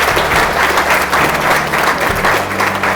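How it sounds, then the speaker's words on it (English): Wedding guests at a venue applaud loudly and continuously, a dense, close crowd clapping over a low hum. "So if we could give them a round of applause."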